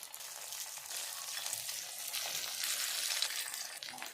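Rice-batter paniyaram fry in a pan with a continuous soft, even sizzle that holds steady throughout, fairly quiet and with no other sounds.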